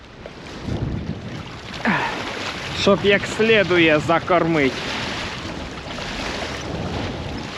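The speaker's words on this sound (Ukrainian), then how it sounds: "І біда в тому, що вітер такий кожен день." Gusty wind rumbles steadily across the microphone throughout while fishing outdoors, with someone speaking briefly in the middle over the blustery noise.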